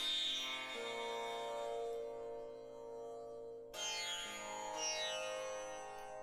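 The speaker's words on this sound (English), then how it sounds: "and like this, I think it's a sitar kind of sound." A tanpura-like Indian string instrument sample with a sitar-like timbre, quiet bright plucked tones that ring and decay in slow sliding phrases, played alone with no voices.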